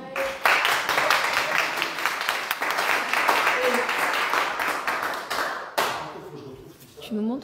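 Audience applauding a graduate at a school diploma ceremony, a loud sustained burst of many hands clapping with individual sharp claps standing out, fading near the end as a voice briefly speaks.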